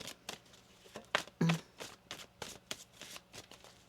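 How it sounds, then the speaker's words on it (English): A deck of tarot cards is riffled and shuffled in quick bursts, crisp flutters and taps repeating at an uneven rhythm, close and clear. "One more shuffle here."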